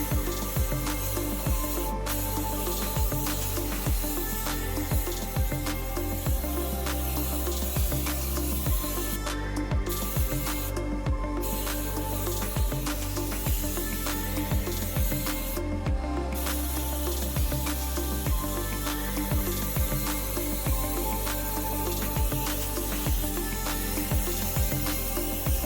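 Spray gun laying thick, wet coats of black candy topcoat over NeoChrome chrome-effect paint, a steady close hiss running unbroken for the whole stretch with no talking.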